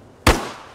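A single sharp grenade launcher explosion from ARMA Reforger, a sudden close blast with a short decaying tail.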